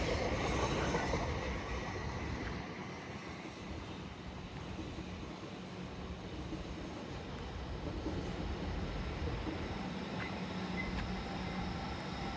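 A Class 377 electric train passes through South Croydon station with a steady rolling rumble and wheel noise, holding moderately loud throughout the passage.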